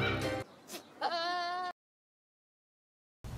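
A goat bleating sound effect, a few quick, quavering bleats close up and alone, then silence before a short burst of another sound.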